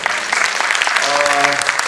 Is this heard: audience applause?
yes